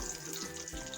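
Onions frying in hot oil in a home kitchen, a steady, dense sizzle with faint watery crackle, continuous and close for about a second with no talking.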